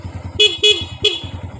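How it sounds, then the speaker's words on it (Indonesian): A 19-year-old Honda Supra Fit motorcycle sounds its horn in three short, loud honks, the first two close together and the third after a brief pause, over the steady low putter of the idling engine. "Klakson juga nyaring sekali ya"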